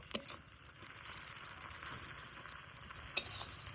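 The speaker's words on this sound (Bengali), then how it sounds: "এবার আদা রসুন দেওয়ার পরে কিন্তু খানিক্ষণ ধরে আমি কষিয়ে নিব" Onions with ginger-garlic paste fry in fish oil with a steady, low sizzle and crackle, plus a few sharper pops and stirring scrapes, and no voices.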